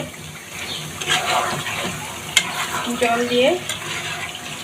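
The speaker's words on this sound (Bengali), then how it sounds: "এবার আমি পরিমাণ মতো জল দিয়ে দিব" Water is poured into braised meat curry in a pan, splashing and sizzling against the hot contents with stirring noises, moderately loud and close for a few seconds.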